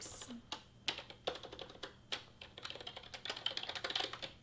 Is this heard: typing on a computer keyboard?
yes